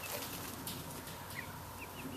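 Chickens cluck and squawk in a farmyard, rattled by a dog chewing at the fence, their calls steady and mid-distance over constant background noise.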